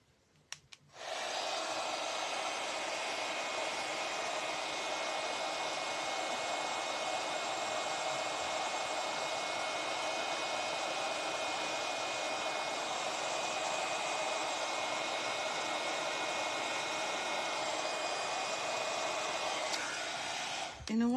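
A hair dryer blows air over a resin pour on a glass mirror, a steady whooshing hum that runs continuously for about twenty seconds after a brief start.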